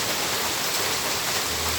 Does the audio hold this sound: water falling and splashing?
yes